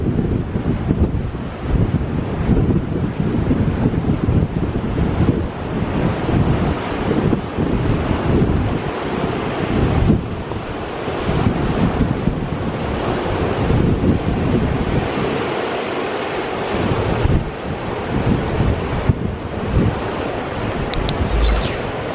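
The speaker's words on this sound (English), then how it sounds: "Wind's really bad here" Strong coastal wind buffets the microphone over steady ocean surf along the Cape to Cape walking track between Canal Rocks and Injidup Bay, a loud, continuous roar with gusty swells and no speech.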